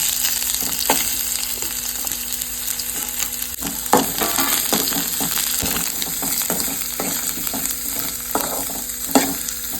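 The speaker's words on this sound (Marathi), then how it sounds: "कांदो जो आसा पळय न्हू तो 1-2 मिनटां खातीर न्ही आमकां हितून भाजून घेवपाक जाय." Onions fry in a pan for chickpea masala curry, a continuous close sizzle broken by irregular scraping stirs and occasional clinks of the utensil against the pan.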